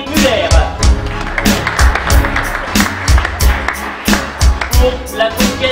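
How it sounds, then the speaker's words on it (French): Rhythmic clapping and crowd noise at a Muay Thai title fight in Luxembourg, with a booming beat pulsing steadily under it as fighter Cédric Muller is introduced; loud and near, with voices in the mix. "Vos applaudissements, Cédric Muller."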